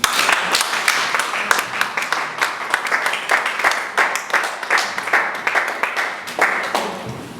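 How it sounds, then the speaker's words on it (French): A church congregation at a June 2019 conference applauds and acclaims the Lord, with dense, steady clapping and scattered cheering voices filling the room for several seconds. "Nous nous levons en acclamant le Seigneur."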